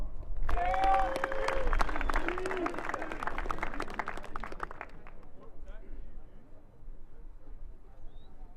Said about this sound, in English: please give a round of applause for our support TAC